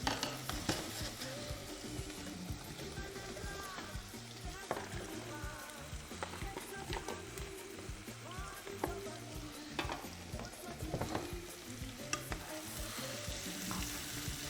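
Onions soften in a pan, giving a continuous, fairly quiet sizzle with scattered pops and occasional stirring scrapes, with no voices.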